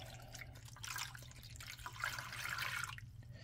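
Two cups of pork broth pour into a pot for barbecue pulled pork, a soft steady liquid splashing and trickling that lasts throughout, quiet and close with a low hum underneath.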